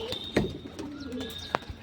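A pigeon coos softly nearby in a couple of short low calls, with faint chirps and light background noise.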